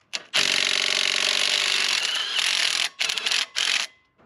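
An impact wrench with a 3/8 socket hammers loose a bolt on a Chevrolet Blue Flame Stovebolt Six engine, a loud, close, continuous rattling burst of about two and a half seconds followed by two shorter bursts.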